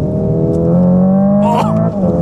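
A 2024 Hyundai IONIQ 5 N in simulated dual-clutch mode accelerates hard, its synthetic engine note climbing through tonal revving with a quick shift blip, loud and close inside the cabin.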